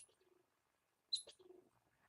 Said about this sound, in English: I think the squirrel is kicking out a bird from my Jeep right now. That's that loud chirp you hear.